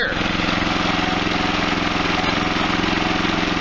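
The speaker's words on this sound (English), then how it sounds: "That's a generator spinning, producing that air." A Westinghouse generator runs close by with a loud, steady engine drone and rushing airflow, unbroken throughout.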